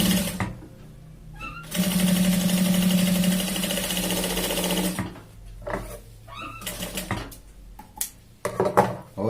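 A sewing machine stitches a shirt's shoulder seam in one steady, loud run of about three seconds, with shorter bursts and handling noises around it.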